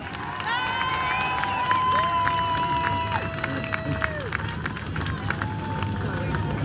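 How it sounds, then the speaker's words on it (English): A crowd at an outdoor political rally in Melbourne, Australia cheers and applauds, a loud, continuous roar of voices and clapping with long sustained whistle-like tones rising above the mass noise. "A big round of applause for Dr."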